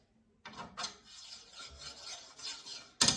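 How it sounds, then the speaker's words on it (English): Soft rubbing glides of a pure brass bushing on a 3D printer moving along a rod, quieter and smoother, ending in a sharp knock, close up with no voices. "I use pure brass bushings, And you can just hear the sound is different."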